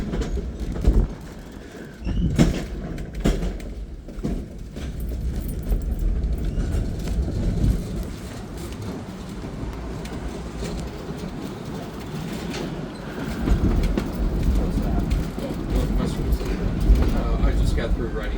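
Siemens Duewag U2 light rail vehicle, a German-built car formerly of San Diego, at a railway museum, rolling along track with a steady low rumble and scattered wheel clicks and knocks, people talking over it.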